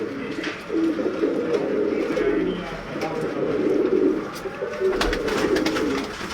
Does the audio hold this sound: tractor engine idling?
no